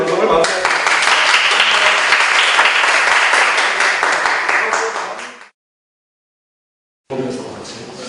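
Loud applause from a student audience closing a broadcast, dense clapping sustained for several seconds before cutting to silence, then resuming briefly.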